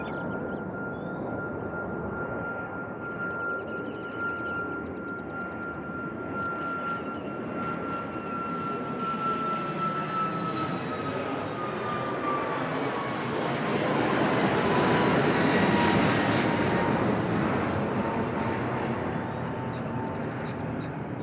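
A United airliner on the runway at Nashville International Airport gives a steady, loud jet roar with a high engine whine. The roar swells toward the end, and no one speaks.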